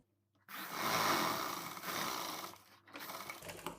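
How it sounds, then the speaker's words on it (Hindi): A sewing machine stitches the seam of a suit in steady, close motorized runs that pause briefly twice and then resume. "ये देखिए हमने एक तरफ सिलाई लगा लिया।"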